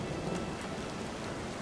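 Steady heavy rain in a Pillars of Eternity II: Deadfire storm at sea pours down in a dense, unbroken hiss, with a faint rumble of storm underneath.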